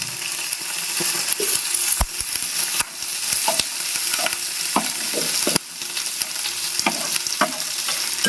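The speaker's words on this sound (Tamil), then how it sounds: "சோம்பு அப்புறம் கருவேப்பிலை சேர்த்துக்கலாம் இப்போ வெங்காயம் சேர்த்துக்கலாம்" Onions frying in hot oil with fennel seeds and curry leaves for a pepper meat fry, a steady close sizzle with scattered sharp crackles and stirring clicks throughout, no voices.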